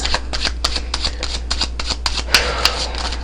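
Tarot cards are shuffled steadily and close up, a continuous rapid riffling and flicking with a few sharper snaps, with no voice over it.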